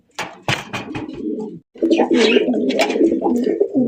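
High-flying Giribaz pigeons from Rajshahi coo and flutter nearby in a steady, busy chorus while someone talks over them.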